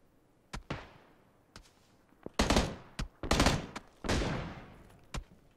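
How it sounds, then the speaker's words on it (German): Separate gunshots and short bursts in PUBG, sharp cracks with echoing tails spaced irregularly against quiet gaps, some near and loud, others farther off. "da wird auch geschossen auf uns"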